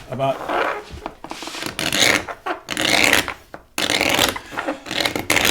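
A semicircle scraper rasps paint off antique furniture in repeated strokes, each a loud gritty scrape separated by short pauses, close and fairly steady in rhythm.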